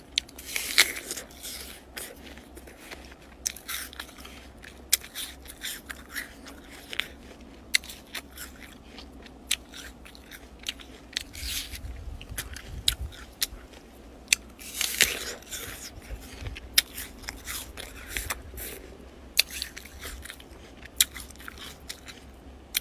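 Crisp bites and crunchy chewing of a homegrown green apple in a garden, repeated close-up crunches scattered across a quiet background.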